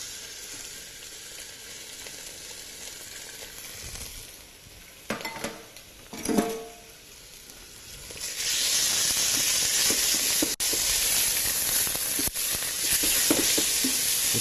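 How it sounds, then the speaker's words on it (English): Lamb sears in a hot pan with a steady sizzle, broken by a few clatters of pan and utensil, then the hiss surges much louder and stays intense, close by with no talk. "Right, so we're going to start by searing the lamb."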